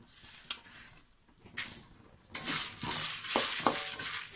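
Fennel, cardamom and dried red chillies crackle in hot oil for mutton kulambu, starting with faint scattered pops and swelling into a steady close sizzle with a few sharp spits and stirring clinks.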